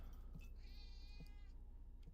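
A cat meows once with a drawn-out, rising-and-falling cry, fairly close, over a steady low background hum with a few soft thumps.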